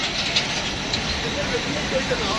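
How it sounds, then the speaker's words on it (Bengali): An Antarnagar intercity train arrives at a rail station, a continuous loud rumble of rolling wheels and engine noise that fills the whole short stretch, with faint voices mixed in. "তো ট্রেন আসলো অন্তনগর ইন্টারসিটি"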